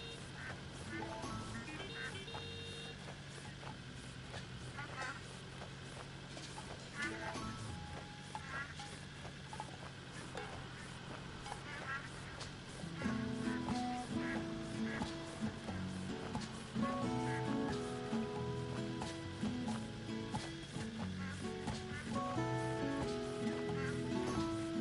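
Chickens in the farming video game Farm Together 2: a mix of bird clucks and squawks over looping background music that grows busier and louder halfway through.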